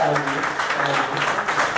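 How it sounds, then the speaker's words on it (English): An audience applauds, a dense patter of clapping running steadily throughout, with a voice speaking over it. "But I hope y'all applauding for him and not for me"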